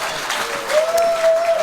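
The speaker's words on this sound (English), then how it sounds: "Give these lads a round of applause" A crowd at a sports club event claps for the players, moderately loud and continuous, with a sustained whistle-like tone rising out of the clapping partway through.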